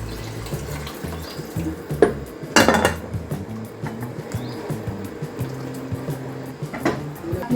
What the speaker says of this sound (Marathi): हे मिसळचंच गरम पाणी ते पण टाकून घ्यायचं